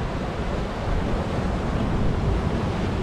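Continuous wash of ocean surf breaking against rocks nearby, a dense rushing roar with no voices.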